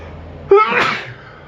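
A single sharp, loud human sneeze after drinking Coke Zero, a short voiced intake followed by a forceful breathy burst, close and alone.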